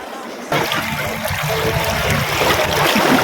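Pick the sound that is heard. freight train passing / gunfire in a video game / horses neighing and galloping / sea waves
sea waves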